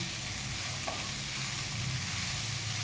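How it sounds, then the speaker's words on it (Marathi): Sugar being stirred and sautéed in a pan over low heat for fried modak filling, a continuous close sizzle with steady scraping, no voices. "आणि हे आपण साखर वेगवेगळे करत आपण परतून घ्यायचं आहे"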